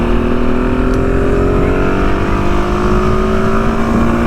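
A KTM 690 Enduro R dual-sport motorcycle engine pulls hard under acceleration, its close, loud, steady drone climbing smoothly in pitch toward the top end without a break.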